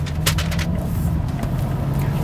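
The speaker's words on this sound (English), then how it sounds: "Accelerate through the corner." A 2016 BMW 7 Series accelerating through a corner, with a steady low engine drone and road noise filling the cabin throughout, a few brief brighter clicks near the start.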